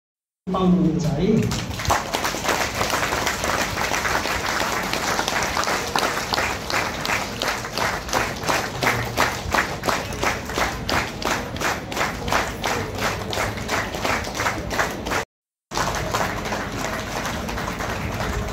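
Guests at a Nepali Christian wedding ceremony break into sustained applause, steady rhythmic clapping from a crowd that carries on for many seconds with a brief cut near the end.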